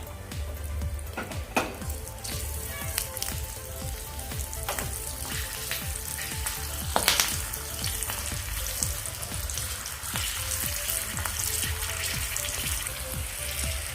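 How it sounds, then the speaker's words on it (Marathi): Green chillies sizzle and crackle in hot tempering oil for Amritsari chole, a steady loud frying hiss with scattered pops and a few stirring clinks of a pan throughout. "गॅस बंद करते हिरव्या मिरच्या घालते फोडणीमध्येच"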